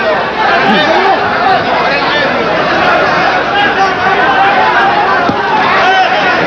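Crowd noise filling a boxing arena during a Samuel Serrano vs Julio Valdez bout, a loud, continuous roar of chatter and shouting with no breaks, heard close and dense throughout.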